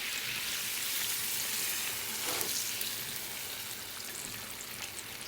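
Cream poured into a hot pot of Marsala wine caper sauce for seared scallops, with a soft continuous sizzle and hiss that swells briefly when it hits the pan, then settles into a quieter steady bubbling.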